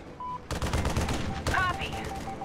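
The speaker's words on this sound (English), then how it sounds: "Take the shot, Grim." Gunfire in the stealth shooter Splinter Cell Blacklist, a sharp loud shot at half a second followed by a second burst at one and a half seconds, set against tense game music and effects.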